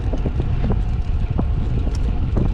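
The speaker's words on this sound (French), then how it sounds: "Là le vent se lève et les nuages apparaissent." Wind picks up outdoors on a road trip toward Joigny, a loud, steady rumbling buffet on the microphone with low gusty roar throughout.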